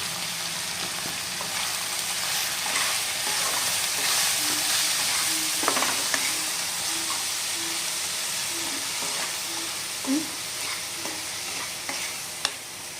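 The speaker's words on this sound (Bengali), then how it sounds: "আর এখন শাকটা আমরা ভালো করে ভেজে নেব।" Matar shak (pea greens) frying and being stirred in a pan with a little oil, a steady close sizzle and hiss with occasional scrapes and pops, no talking.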